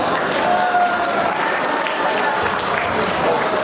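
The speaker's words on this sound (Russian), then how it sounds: "Ваши аплодисменты, Андрей Шила." Indoor audience at an Assyrian New Year celebration applauding, a dense steady wash of clapping throughout, with faint voices beneath.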